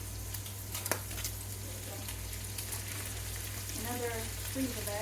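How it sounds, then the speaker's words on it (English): Onion sizzling in a pan, a steady crackling fry running through the whole stretch at moderate level, with faint background voice and a few kitchen clatters near the end. "We're going to throw a little bit of onion in here."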